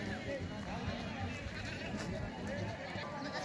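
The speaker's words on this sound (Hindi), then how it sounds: "देखिए गाइस एक से एक भेड़ मुंगेली बकरी बाजार में।" Sheep bleat amid the crowd at the Mungeli goat market, their calls rising over steady background babble and someone speaking nearby.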